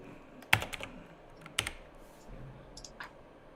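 Computer keyboard typing while entering trade settings on a trading platform: a couple of sharp clustered keystroke bursts, then scattered lighter clicks, close and fairly loud over quiet room noise with no talking.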